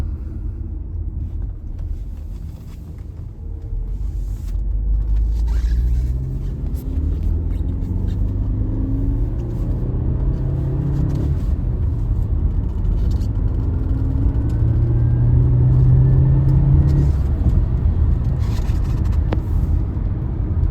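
Interior drone of a 2006 Audi A4 Avant quattro 2.0T FSI with a six-speed manual on a quick drive, a steady engine and road rumble with rising and falling revs through gear changes, continuous throughout.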